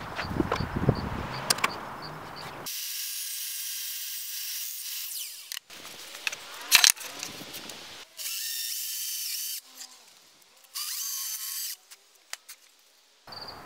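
A table saw cuts a wooden window stool board, giving several loud, sustained whining runs of the blade with short pauses between passes; no talking.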